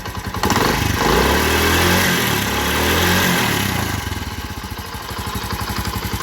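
A used motorcycle idles in neutral, then its engine is revved up and down several times, loud and close, with the rhythmic pulsing of the exhaust and no talking.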